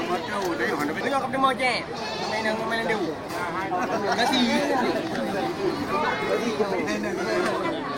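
Male goats bleat repeatedly at a busy livestock market ahead of Qurban, their calls overlapping with crowd chatter and people talking nearby.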